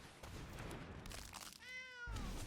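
A short cat meow from the Ice Cream Kitty card in the Magic Arena video game, a single rising-then-falling cry lasting about half a second amid game noise.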